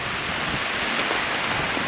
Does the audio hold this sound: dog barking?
no